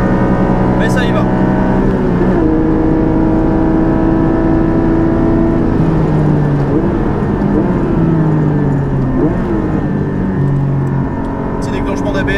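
A Porsche 718 GT4 with its naturally aspirated engine and Akrapovic exhaust accelerates on track at Spa-Francorchamps, a loud droning engine tone rising smoothly and linearly through gears, with someone talking over it from inside the cabin.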